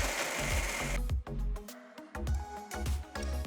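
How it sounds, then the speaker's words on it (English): A mixer grinder pulverizes toasted bread pieces into breadcrumbs, a loud close motor roar that runs in several pulsed bursts with short pauses and a rattling churn, with no talk. "Transfer it to a mixer jar and grind it till you get nice fine breadcrumbs"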